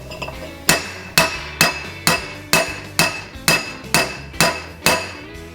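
A hammer strikes a Wiseco engine piston about ten times at an even pace, each blow a sharp, close metallic smack.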